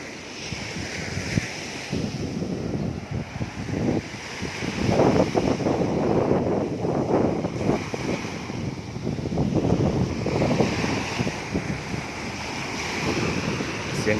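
Waves of the Gulf of Thailand surge and crash onto Khae Khae beach in Panare, Pattani, a loud continuous rolling roar with heavy wind buffeting the microphone.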